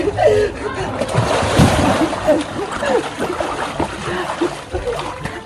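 Water splashes and sloshes close by as a child swims in a pool, a busy, uneven churning under excited voices talking throughout.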